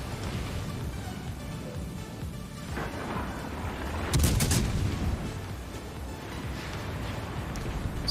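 Naval guns boom in the World of Warships Legends battle, and a cruiser keeps firing through a steady rumbling battle din. Bursts of muffled gunfire swell loudest midway, and there are no voices.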